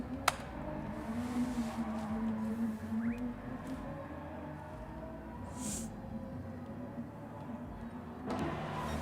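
BMW M4 race cars in a racing video game during an esports practice session at Catalunya give a faint, steady engine drone with a slowly shifting pitch, distant and quiet throughout.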